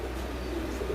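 A pair of dark stock Budapest pigeons cooing softly in a steady, low murmur that runs through the whole short moment, close by with no voices over it.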